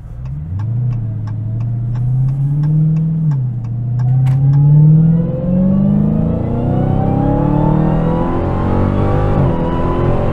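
A 2023 Dodge Challenger SRT Black Ghost accelerating hard, its supercharged V8 rising loud and close through fast gear changes, with a brief dip at each shift before the engine climbs again.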